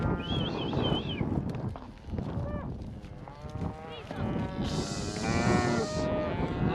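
Cattle low and moo repeatedly during a cattle drive with riders on young horses; several drawn-out calls rise near and far while people shout and talk nearby.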